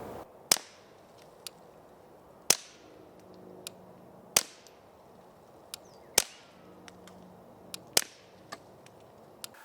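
Suppressed Beretta 21A Bobcat pistol shots fired one at a time at roughly two-second intervals: five sharp, cracking reports with short decaying tails, separated by lighter metallic clicks and quiet room tone.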